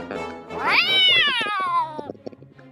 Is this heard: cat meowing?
yes